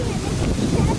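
Wind buffets the microphone on a walk toward the beach in Miami Beach, Florida, a loud, steady low rumble through the whole short stretch.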